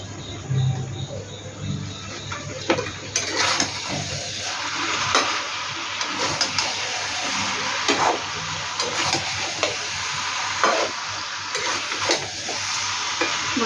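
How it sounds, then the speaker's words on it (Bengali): Potato and eggplant curry stirred in a pan over a gas flame, with a steady sizzle of frying and intermittent scraping strokes of a spoon, close and continuous with no talking. "আর একবার নেড়ে দিই বন্ধুরা"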